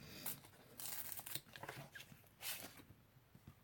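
A glittery sticker peeled slowly off friend mail, giving several close, crisp tearing and crinkling bursts with short quiet gaps between them, with no talk.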